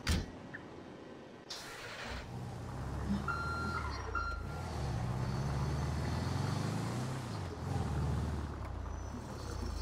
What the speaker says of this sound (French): Ah, il est là le camion.